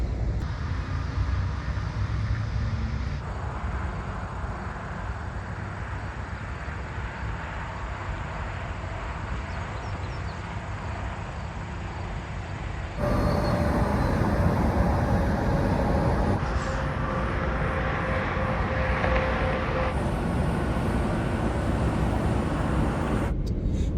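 Night at a highway travel plaza, with a steady low rumble of trucks passing and idling nearby, swelling louder partway through and holding a continuous heavy drone.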